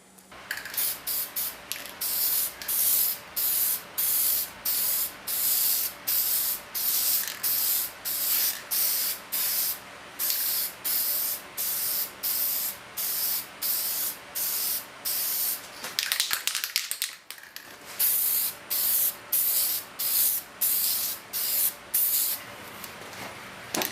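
Repeated close bursts from an aerosol spray can applying clear coat to hydro-dipped pieces, about two dozen short hisses in a regular rhythm with a brief pause partway through.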